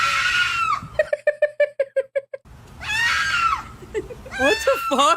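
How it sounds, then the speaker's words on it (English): Goats scream in a series of loud, wavering bleats, broken by a run of short rhythmic bursts and then long drawn-out cries, close and clear with no talking. "I didn't know the goats could make this noise."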